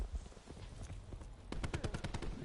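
A rapid string of faint gunshots from a Black Ops 4 match, with sniper rifle fire among them, sounds at a distance, quiet and clipped, quickening into a tight volley near the end.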